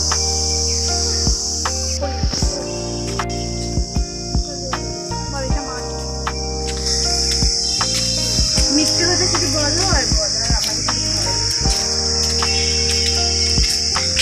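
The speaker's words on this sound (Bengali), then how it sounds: "এই বাগানটায় অনেক ঝিঝি পোকা।" Crickets in a garden chirr continuously in a loud, steady high-pitched drone, with occasional faint bird calls and a few knocks in the background.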